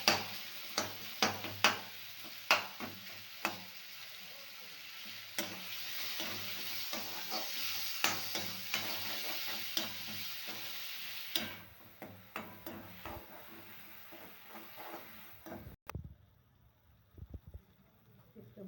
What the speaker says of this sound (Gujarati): પછી નાખી દઈશું ટમેટા, પછી થોડું નાખી દઈશું આપણે મીઠું, થોડીક વાર ચડવા દઈશું